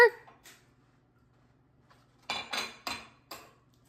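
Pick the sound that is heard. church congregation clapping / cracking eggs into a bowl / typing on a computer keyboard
cracking eggs into a bowl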